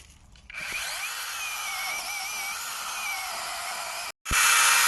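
A 6-inch chainsaw cutting through a 10-inch wood log, a steady high-pitched buzzing whine held for several seconds, then a brief cutoff and a louder burst.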